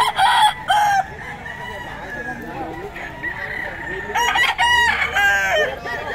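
Young roosters (stags) at a Bocaue poultry market crow in several loud nearby bursts, with clucking and someone talking in the background.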